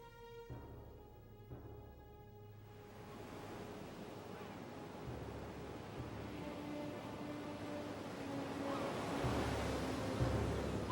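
Sea waves wash against the shore at Sounion, Greece, a broad rushing surge that swells louder toward the end, mixed with wind noise and a faint tonal hum early on.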